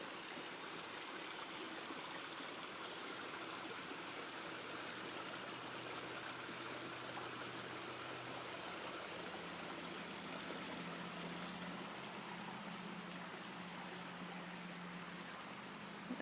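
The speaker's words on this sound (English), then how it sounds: "There's the other side of the creek. Water flowing, and I'm sure you can hear it." A creek swollen after rain flows past a neighborhood street, making a soft, constant rushing hiss that stays even throughout, faint and unbroken by voices.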